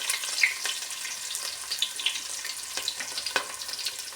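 Onions and a green chili fry in a pan for a Coorg-style fish curry, giving a continuous hissing sizzle with small crackles and pops throughout, close and steady, with no talking.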